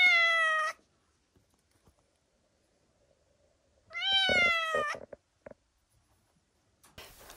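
A rescued cat gives two loud, drawn-out meows several seconds apart, with near silence and a few faint clicks between them.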